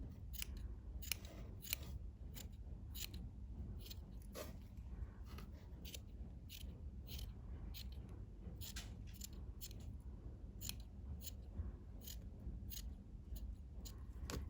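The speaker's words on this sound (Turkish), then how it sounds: "O fazlalıkları hepsini kesip çıkartmanız lazım." Scissors snip steadily at close range, cutting away excess material in a quick, regular run of crisp cuts over a faint low background hum.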